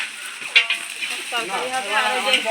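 Vegetables fry in a pan, crackling and sizzling while a spoon stirs them, with scraping clicks and bursts of frying noise that rise and fall at close range.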